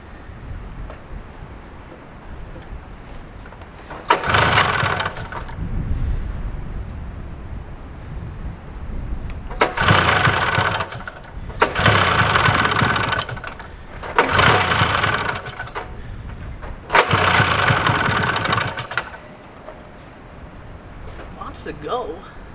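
A 1974 John Deere 400JD vintage snowmobile engine cranks in five close, loud bursts of churning turnover, each lasting a second or two, with pauses and talk between them.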